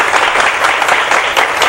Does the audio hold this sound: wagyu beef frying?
no